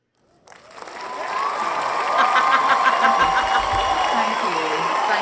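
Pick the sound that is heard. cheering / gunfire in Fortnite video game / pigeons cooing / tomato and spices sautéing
cheering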